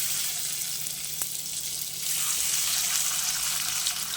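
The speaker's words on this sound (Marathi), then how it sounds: "तेल घालते आणि हे पनीर मी कट न करता असंच कढईमध्ये घालणार आहे" Steady hissing sizzle of whole paneer frying in hot oil in a wok, close and continuous, growing a little louder partway through.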